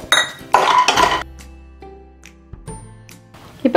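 Cashews tipped into a pan for dry roasting after almonds, a burst of clattering nuts and metal clinks followed by quieter ringing and a few light scrapes and taps.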